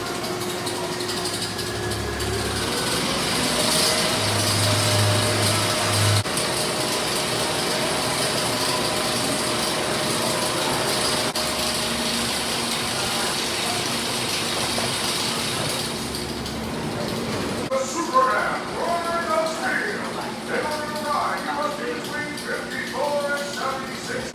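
A steel roller coaster lift chain at Six Flags America, a loud continuous mechanical ratcheting and clanking with steady rhythm, joined later by scattered shouts and crowd noise, with people talking over it.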